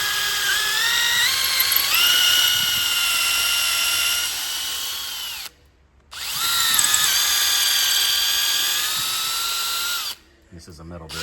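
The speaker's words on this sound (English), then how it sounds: "This is a metal bit. Drilling in the wood, so not ideal." A power drill with a metal bit bores through wood, giving a loud, close whine that rises in pitch, stops briefly, then runs again at steady speed before stopping.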